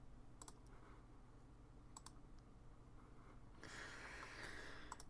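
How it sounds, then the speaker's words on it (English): Someone types on a mechanical computer keyboard in a quiet room, producing sparse, distinct clicking keystrokes at close range, faint overall, joined near the end by a brief higher whine. "Epic keyboard sounds. It is an epic keyboard sound."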